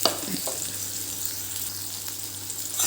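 A chopped small onion and a long-cut potato fry in a pan for a bitter gourd and potato curry, giving a steady, close crackling sizzle with a few stirring scrapes.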